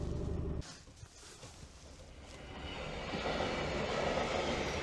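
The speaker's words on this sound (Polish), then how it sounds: "Leci jakieś Polregio do Zakopanego." A Polregio regional passenger train headed to Zakopane passes a rail level crossing, its rumble building steadily from faint to loud and filling the outdoor air with rolling wheel noise.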